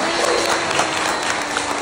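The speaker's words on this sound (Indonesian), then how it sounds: "Tepuk tangan dong." Audience applause at a stand-up comedy show, a brief, even burst of many people clapping together, steady and moderately loud from start to finish.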